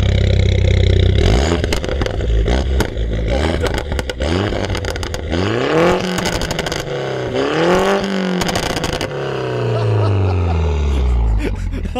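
A warm Mini Cooper S with a Miltech exhaust revs loudly and close, several times in a row. The engine pitch sweeps up and falls back, with crackles and clatter between the revs.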